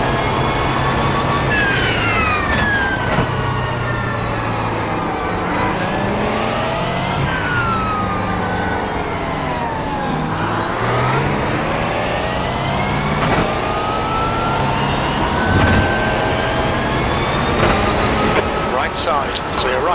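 Race cars in iRacing at Silverstone scream past one after another, engines rising and falling in pitch through gear changes for a long continuous stretch, with a spotter voice speaking over the roar.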